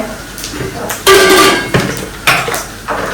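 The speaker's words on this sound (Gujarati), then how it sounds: "તો અહીંયા તેલ ગરમ થઈ ગયું છે, હવે આખા મસાલા નાખશો આપણે." Whole spices dropped into hot oil in a pan, heard as a few sharp clinks and spatters in separate bursts, loud and close, with a faint sizzle in between.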